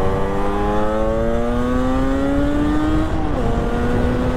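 A Yamaha RD350 YPVS two-stroke motorcycle revs loud and close, its buzzing engine note climbing steadily, then briefly dropping as the throttle eases before rising again.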